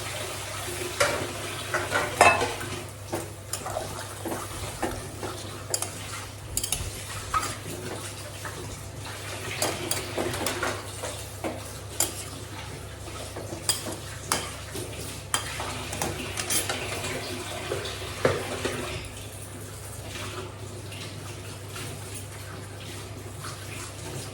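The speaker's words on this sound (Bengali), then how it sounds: "এখন লতির মধ্যেও একটু অল্প করে জল দিয়ে দেবো" Taro stolons cook in a pan of oil in a home kitchen as a little water is added, giving a soft, steady sizzle with stirring scrapes and clatters, no voices.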